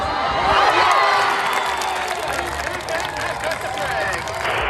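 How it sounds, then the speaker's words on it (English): A huge outdoor crowd cheers and roars throughout a greased pole walking contest in Ireland, a dense, loud wall of shouting, whistles and clapping with a steady swell and no break. "There was a huge crowd."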